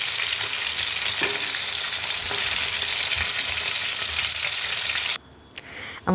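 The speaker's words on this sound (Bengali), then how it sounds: "আমি মাংসটাকে এপিট ওপিট করে আমি ভেজে নিচ্ছি" Chicken pieces for chilli chicken fry in hot oil in a pan, a steady loud broadband sizzle with faint stirring clicks that drops away abruptly near the end.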